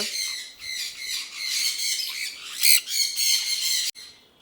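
Shrill, harsh squawks from pet birds sound close and loud, overlapping almost continuously with a brief break near the end.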